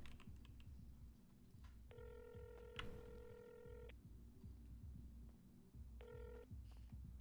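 A phone rings twice during GTA NoPixel 4.0 roleplay, with a longer electronic ring and then a shorter one, both clear over a steady low rumble of game ambience.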